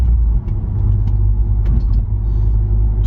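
An Audi S1 Quattro, freshly rebuilt from salvage with new strut and steering parts, drives along with a loud, steady low rumble from the engine and road, plus a few faint rattles and no voices.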